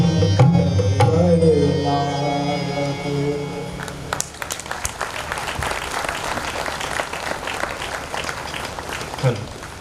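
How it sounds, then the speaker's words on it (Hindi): Loud audience applause and cheering fill the hall at a Ganesh festival seminar in Moradabad for a child performer, breaking in as singing and music end, a dense, steady wash of claps that carries on to the close. "जोरदार ताली बजा दी इस बच्चे की।"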